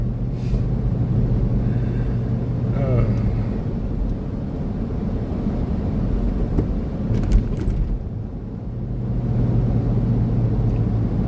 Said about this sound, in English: Guy driving down the road in a tractor.